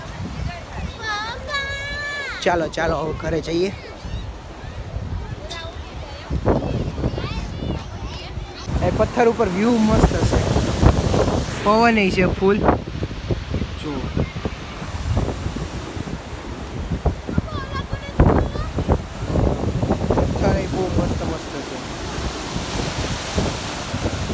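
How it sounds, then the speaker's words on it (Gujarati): Wind buffets the microphone in strong gusts by the sea, with surf rumbling in the background and people, including a child, talking throughout. "પવન પવનનો અવાજ આવશે"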